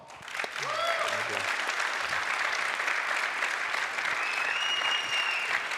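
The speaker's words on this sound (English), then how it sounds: "Please join me in giving them a round of applause." An audience at a developer conference keynote awards ceremony gives a sustained round of applause, a dense, steady clapping that starts abruptly after a brief voice and continues evenly to the end.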